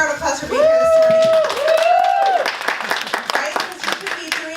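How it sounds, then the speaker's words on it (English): An audience at a morning fall fest leader meeting breaks into clapping and cheering, with a whooping voice rising loudly over the applause before it fades into scattered claps and chatter. "Give yourselves a big round of applause for being here this morning."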